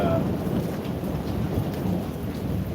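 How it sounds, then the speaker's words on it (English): Thunderstorm with steady rain heard from under a countryside pavilion during a cross-country walk, a dense continuous roar of rainfall with low rumbling throughout, close and fairly loud, no talking. "If you can hear the thunderstorm, that's why we're sitting under the pavilion."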